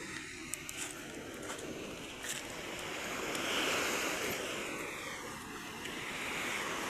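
Waves wash onto a wide shoreline in a broad, continuous roar that swells gently and recedes, with wind-like hiss throughout.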